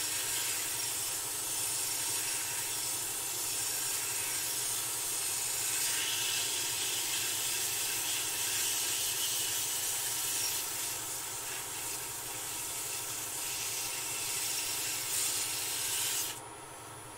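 Steady, close abrasive hiss of sandpaper rubbing a wooden goblet, continuous and even for around sixteen seconds before stopping abruptly, with no talking over it.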